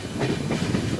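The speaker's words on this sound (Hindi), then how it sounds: "और ट्रेन पहुंच रही है बोकारो थर्मल प्लांट में।" The Jabalpur Howrah Shaktipunj Express arrives at Bokaro Thermal station beside a thermal power plant, a loud steady rumble of rolling carriages with rhythmic clickety-clack of wheels, heard close and with no talk.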